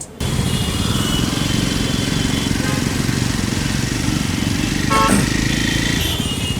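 A 2021 Jawa 42 2.1 motorcycle runs with a steady, close engine thrum after a sharp start, holding an even drone with a brief honk-like tone near the end and speech mixed in.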